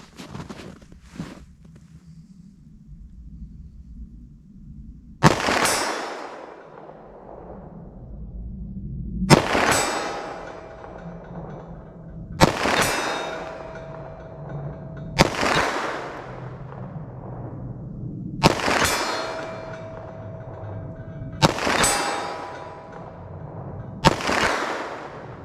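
A pistol chambered in .357 SIG fires seven loud shots at an uneven, unhurried pace. Each crack is followed by a long echoing decay, and faint handling noise comes between shots.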